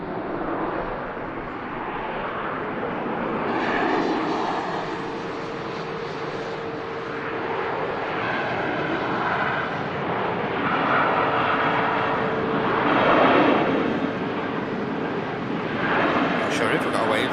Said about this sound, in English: Aircraft is inbound from Budapest. 737 Golf Romeo uniform Kilo India.